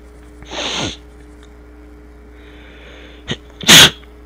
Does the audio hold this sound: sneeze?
yes